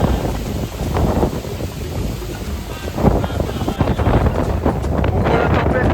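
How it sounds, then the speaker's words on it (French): Gusty tropical storm wind buffets the microphone on a boat trip near Lomé, Togo, heading toward Togoville, a constant loud rush with rough low-end rumble, with water and boat noise mixed in. "on voit la tempête tropicale qui commence à se lever"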